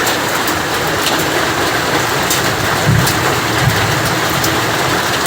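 Steady heavy rain pouring down, a dense hiss with scattered sharper ticks and pings of hail landing, continuous throughout.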